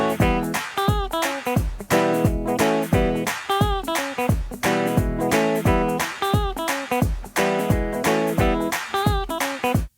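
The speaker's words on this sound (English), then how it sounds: "You're going to learn how to play a quartet drive." A gospel quartet drive played on guitar: a steady, rhythmic strummed and plucked chord pattern with bright ringing notes and repeating accents, loud and close, with no voices.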